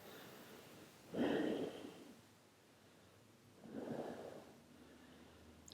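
Two slow, audible exhales during a no-impact full-body workout stretch, each a soft airy rush a few seconds apart, close to the mic with no talking.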